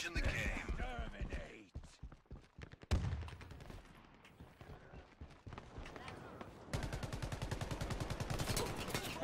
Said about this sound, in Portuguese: De onde saiu esse cara atirando em mim